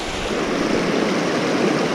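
A rocky mountain creek rushes past a trail crossing above 12,000 feet on Mt. Belford: a steady, full wash of flowing water, close and constant, with no voices.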